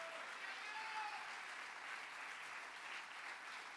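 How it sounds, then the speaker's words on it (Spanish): A church congregation applauds, a steady, close wash of clapping from many hands held at even loudness throughout. "Dale un aplauso, Señor, fuerte."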